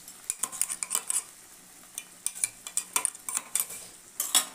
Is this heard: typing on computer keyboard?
no